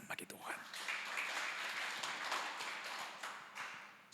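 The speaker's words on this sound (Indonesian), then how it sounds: "Kasih tepuk tangan bagi Tuhan." A church congregation applauds during a Sunday worship service, a faint and fairly distant wash of clapping that runs steadily throughout, mixed with voices.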